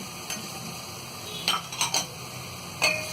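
A spoon stirs ginger and garlic paste in a cooking pot for vegetable biryani, giving a few scattered metallic clinks and scrapes over a quiet, steady background hiss.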